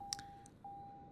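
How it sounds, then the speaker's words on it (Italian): A cockpit buzzer in Microsoft Flight Simulator 2020 sounds as a faint, steady electronic tone that briefly drops out midway and then resumes, joined by a few quick soft clicks and bleeps early on. "Qui c'è il cicalino invece all'interno"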